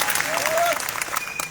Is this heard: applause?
yes